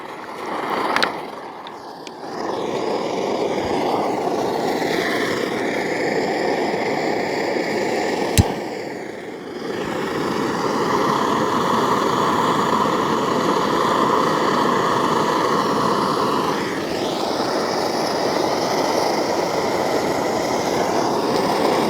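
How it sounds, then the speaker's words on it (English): A Jetboil camping gas stove burner boiling water gives a steady roaring hiss, running continuously, with faint clinks and rustling nearby. "The jet boil is boiling"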